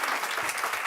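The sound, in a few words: audience clapping at a school board meeting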